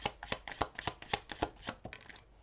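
Tarot cards being shuffled and drawn, a quick series of crisp slapping riffles about a dozen times in an uneven rhythm, close and alone with no voices.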